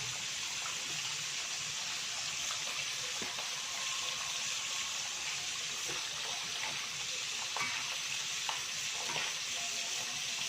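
Shredded grilled tuna (ikan tongkol) is stir-fried with a spice paste in a pan for an Aceh-style dry sauté, with a steady hiss of sizzling and occasional scrapes and clicks as the mixture is stirred.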